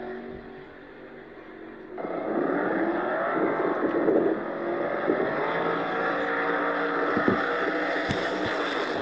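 Two no-prep drag cars, a Vega and a Mustang, launch with a sudden loud engine roar that holds steady for several seconds, one car smoking its tire, heard from a distance with a broad rumbling drone.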